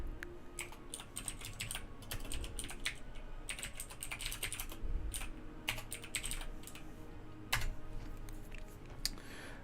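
Steady rapid typing on a computer keyboard, close and fairly loud, with dense clustered keystrokes and brief pauses throughout, no voices.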